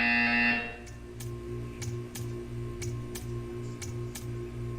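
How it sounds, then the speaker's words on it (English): Buzzer sounding in the Portal 2 video game, a series of sharp, evenly spaced electronic pulses repeating over a steady low hum after a brief louder tone at the start. "You will hear a buzzer."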